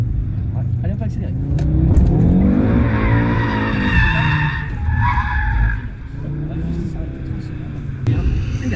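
Audi RS3 accelerating hard with tires skidding and squealing, a loud sustained engine roar and screeching rubber close by, with people talking over it.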